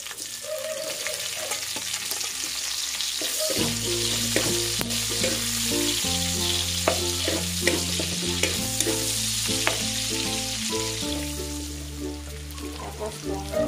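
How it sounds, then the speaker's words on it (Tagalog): Chopped onion and then garlic sautéing in oil in a pan as the base for Filipino pinakbet, giving a steady, close sizzle with repeated stirring scrapes and clinks throughout. "Gigisan na natin yung bawang."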